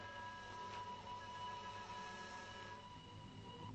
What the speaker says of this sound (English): She's right. It is a train.